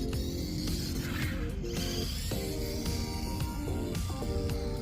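Losi Micro B RC car with a brushless motor upgrade and aluminum parts, running at half throttle: a continuous close whirring motor whine with shifting pitch steps and mechanical chatter throughout.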